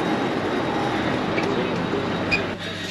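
Steady rumbling train noise in Tel Aviv, Israel fills the whole stretch, a loud continuous roar with faint metallic squeals rising over it.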